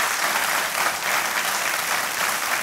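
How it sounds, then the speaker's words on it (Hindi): Studio audience applause on a Hindi television quiz show, a dense sustained patter of many hands clapping at even strength from start to finish with no speech. "तालियों के साथ एक बार फिर आपका स्वागत"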